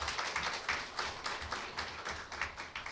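Applause fills an awards presentation at a Jongno District Office staff meeting, a steady, dense clatter of many hands clapping in a room with rhythmic swells and no voices.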